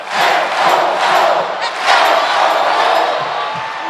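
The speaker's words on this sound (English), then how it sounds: "the crowd trying to urge the home team on" A home crowd at a Hawaii men's volleyball match against Grand Canyon cheers loudly and steadily, a sustained roar of shouts and whistles from a packed arena that swells and dips slightly without a break.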